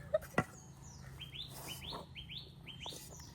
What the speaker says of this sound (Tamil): குருவி சத்தம் எல்லாம்